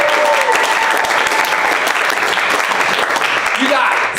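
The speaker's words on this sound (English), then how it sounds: "Big round of applause." Loud audience applause at a student improv games showcase, dense and sustained clapping filling the whole stretch, with a crowd voice or two rising near the end.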